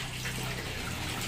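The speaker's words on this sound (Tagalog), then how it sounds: "may tuloy-tuloy yung tubig" Tap water running continuously while rinsing laundry near a tumbler and bucket, a steady close broadband gush and splash with no break, no voices over it.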